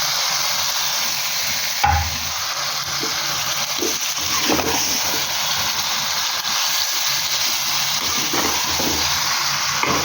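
Marinated chicken pieces for a restaurant-style chicken kosha hit a hot pan with a loud, steady sizzle and hiss, broken by stirring clatters and the odd thump of metal against the pan.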